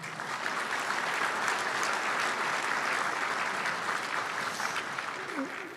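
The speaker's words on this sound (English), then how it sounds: "Great round of applause for them." A banquet room full of guests at an awards dinner gives a long round of applause for retired general officers, dense, steady clapping from many hands, with voices mixed faintly into the crowd noise.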